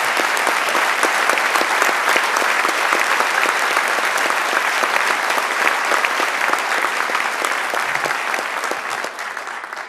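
An audience applauds at a city's State of the City address, a thick, continuous roar of many hands clapping together that holds strong for about ten seconds before tapering slightly at the end.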